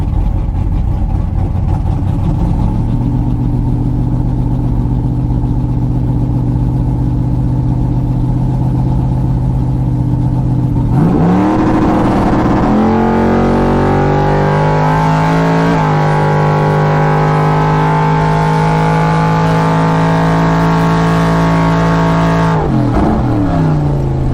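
A drag racing car at Benaraby holds a steady droning engine against the brake, then launches with a loud roar that climbs through several gear changes as it charges down the strip, close and without talk.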